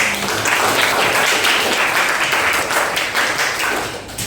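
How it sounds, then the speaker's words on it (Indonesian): Students in a classroom applauding together, a dense, loud and continuous burst of many hands clapping that holds steady for several seconds before easing slightly at the end. "tepuk tangan dong untuk"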